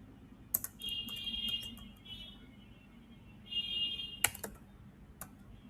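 Bursts of quick keystrokes on a computer keyboard as a search query is typed, soft and close, with short pauses between runs of clicks in a quiet room.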